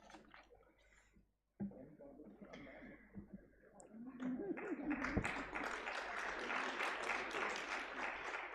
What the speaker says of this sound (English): Let's have a round of applause for our winners of the 10th Manipal Ranka International Moot Court